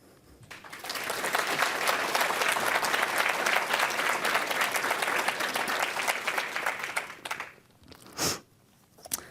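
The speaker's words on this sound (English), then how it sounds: "that in and of itself deserves a round of applause" Applause from a graduation ceremony audience swells quickly, holds dense and steady for several seconds, then fades out, followed by a lone thump in a quieter hall.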